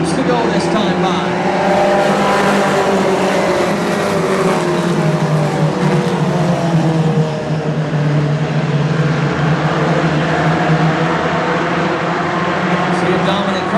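Late-model stock cars lap a short oval during a race, a dense engine roar that holds steady and slightly rises and falls as the pack passes, with a commentator talking over it throughout.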